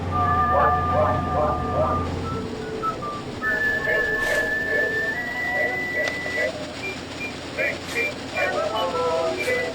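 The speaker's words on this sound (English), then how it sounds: "They're whistling." A whistled melody of sustained, wavering notes in a horror video game, over a busy background of music and ambient noise.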